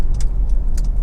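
A Honda CR-V 2.2 i-DTEC diesel engine idles close by, a loud low steady rumble with faint ticking clatter on top.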